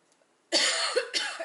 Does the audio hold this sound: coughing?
yes